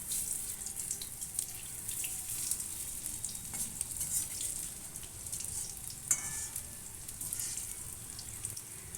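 Banana flower pakoras deep-frying in hot oil make a steady, dense bubbling hiss that stays fairly even throughout, with a couple of faint clinks and no voices.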